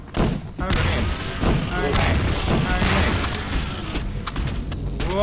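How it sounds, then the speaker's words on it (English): A noisy gun fires in Half-Life 2: Episode Two as a dense run of booming, thudding shots, loud and near, with a person talking over the gunfire. "This gun is pretty noisy"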